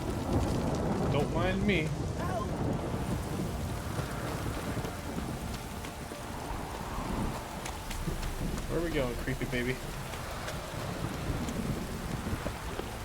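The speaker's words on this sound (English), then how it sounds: "This downpour's a bastard" Heavy rain pours down in The Witcher 3, with thunder rumbling beneath a steady hiss of downpour, while someone talks over the storm and game effects chirp now and then.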